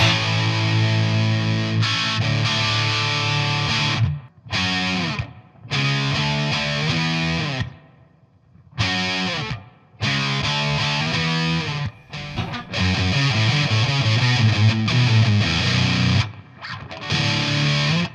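A heavily distorted electric guitar played through an MXR Distortion Plus pedal plays loud chords and riffs, pausing now and then between phrases, with no voices.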